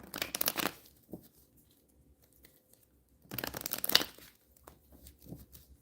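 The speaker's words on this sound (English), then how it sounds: "One more shuffle." A deck of playing cards shuffled close to the microphone in two quick riffling bursts about three seconds apart, with light handling clicks between them.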